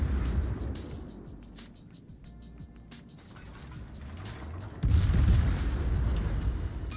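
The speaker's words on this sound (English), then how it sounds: "That's a huge salvo." A battleship's broadside salvo fired in a naval warship video game, a heavy booming blast that swells into loud sustained rumble after a quieter stretch of mechanical clatter.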